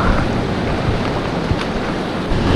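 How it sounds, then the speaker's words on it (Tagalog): Strong sea waves surge and crash while wind buffets the microphone during a fishing trip at sea. The roar is loud and continuous, with no speech. "sisigaw na lang ako kasi ang lakas ng alon, baka hindi nyo marinig"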